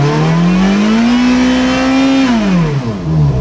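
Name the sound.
Ferrari F430 Scuderia engine started, idling cold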